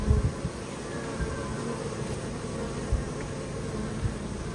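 Honeybees buzz at a hive, a dense continuous drone from many bees close by with a steady hum and occasional louder passes near the listener, no talk.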